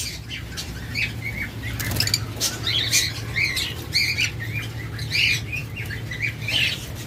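A pair of pet lovebirds in a cage, chirping repeatedly in bright, quick bursts close by, with wing flutters and a low hum underneath.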